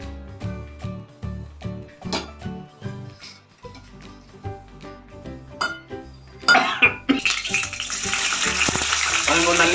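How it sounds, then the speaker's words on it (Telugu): Veld grape (nalleru) stalks frying in oil, a loud, dense sizzle that bursts in partway through and keeps building, following a stretch of rhythmic tonal music. "నూనెలో మంచిగా ఫ్రై చేసుకోవాలి నల్లేరు కాడలు."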